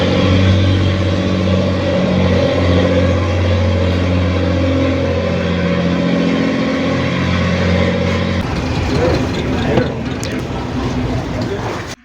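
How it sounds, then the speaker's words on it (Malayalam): Passenger boat engine pulling away from the Nedumudi boat jetty on the backwaters, a steady mid-pitched drone that holds loud and close, then changes character toward the end as the boat departs. "എന്നെ ഇറക്കിയിട്ട് ബോട്ട് തിരികെ പോവുകയാണ്"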